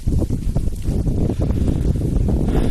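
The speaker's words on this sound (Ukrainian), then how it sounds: "Вітряно сьогодні трошки." Strong wind buffets the microphone in a steady, loud rumble with gusty fluctuations throughout.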